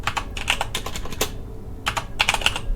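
Fast, uneven clatter of keys on a computer keyboard, close and steady, with a short lull midway before the typing picks up again; no one speaks.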